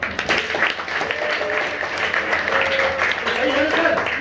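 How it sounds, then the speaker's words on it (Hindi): Loud, steady clapping for a schoolgirl at a school event, dense applause lasting the whole moment with voices mixed underneath. "एक बार अंशिका के लिए फिर से जोरदार ताली।"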